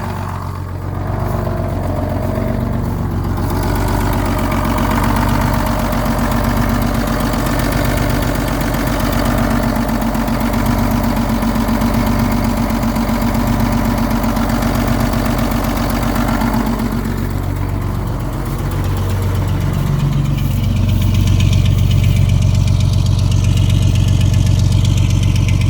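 A truck engine idles steadily just after a cold start, a loud, continuous low rumble with a faint knocking texture that holds throughout and shifts in tone slightly near the end.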